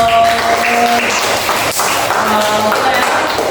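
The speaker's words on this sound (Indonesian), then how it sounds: "Oke, tepuk tangan dulu lagi" Classroom of students clapping hands together, a dense burst of applause filling the room, loud and close with a few voices mixed in.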